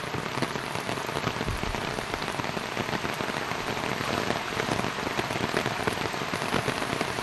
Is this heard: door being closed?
no